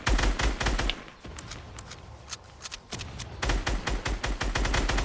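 Rapid bursts of Fortnite gunfire crackle in dense volleys, dropping to scattered shots mid-way before heavy firing resumes, loud and close throughout.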